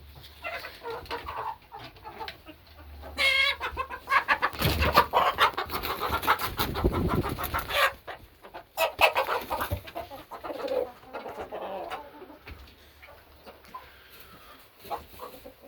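A flock of hens clucks and squawks while heading up to roost at dusk, with a busy burst of agitated calls and wing flutters in the middle and quieter scattered clucks before and after.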